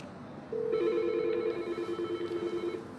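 An IP phone rings as a call arrives from another IP phone in a miniature FTTB network setup, a clear electronic warbling ring tone that starts abruptly and pulses on at close range.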